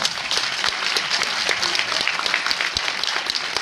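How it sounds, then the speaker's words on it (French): A hall audience at a Christopher Nolan Interstellar event bursts into dense, even applause for editor-in-chief Fabrice Leclerc, a continuous wash of many hands clapping at once. "vous pouvez l'applaudir"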